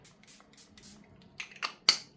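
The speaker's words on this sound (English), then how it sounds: "some of the setting spray went in my mouth." Makeup setting spray misted onto a face, a few quiet, breathy hisses followed by a sharper final burst, close and faint, with no talking.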